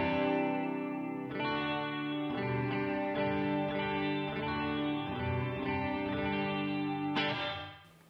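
An electric guitar through an HX Stomp with overdrive off and reverb on plays sustained chords with a lush reverb tail, notes ringing and blending before a brief scrape at the end.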